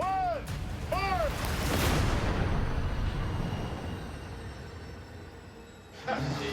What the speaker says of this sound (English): We had a good detonation.